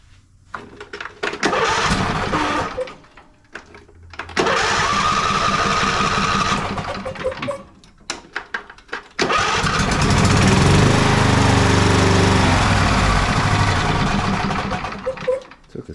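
Twin-cylinder riding lawn mower engine cranks in short bursts, catches and roars to a loud, steady run. A brief stumble and restart follow before it settles into continuous close running.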